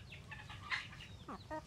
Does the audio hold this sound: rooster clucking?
yes